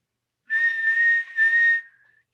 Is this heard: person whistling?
yes